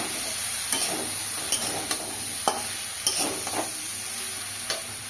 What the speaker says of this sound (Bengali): অল্প করে জিরার গুঁড়ো আর ধনের গুঁড়ো দিয়ে দেবো। দিয়ে ভালো করে আবার নাড়াচাড়া দেবো।